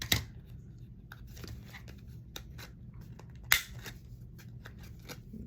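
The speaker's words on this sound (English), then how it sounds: "I just trim it with my scissors." Scissors snip and trim napkin paper at close range while altered playing cards are made in mixed media, giving a quiet run of short crisp cuts and rustles with one sharper snip near the middle.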